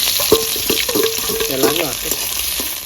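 Onion added to hot oil in a pan for a bean mash, fried with garlic, giving a close sizzle with several sharp clinks and scraping stirs early on.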